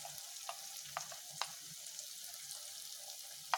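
Turmeric, coriander, chili and asafoetida powders frying with garlic, onion and tomato in a pan for Tamil garlic gravy, a faint low sizzle broken by a few light scraping taps of stirring.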